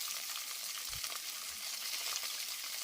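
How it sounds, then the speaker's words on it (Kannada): Garlic with dried Guntur and Byadgi red chillies fries in hot oil for a carrot chutney, giving a steady, close hiss of sizzling with a few soft thumps of stirring and no voices. "ಹಾಕಿ ಇದನ್ನು ಎಣ್ಣೆಯಲ್ಲಿ ಫ್ರೈ ಮಾಡ್ಕೋಬೇಕು."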